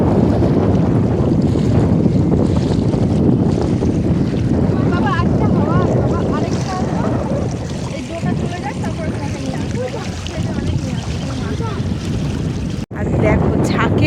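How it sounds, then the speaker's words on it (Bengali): Strong wind near a dam buffets the microphone in loud, continuous rumbling gusts for the whole stretch, with voices partly audible beneath the wind noise. "হাওয়াটা যা লাগছে না"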